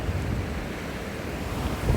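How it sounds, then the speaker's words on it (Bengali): Ocean waves break on Cox's Bazar beach in a continuous roaring surf with heavy wind rumble on the microphone, loud and close throughout. "দেখছেন ঢেউ"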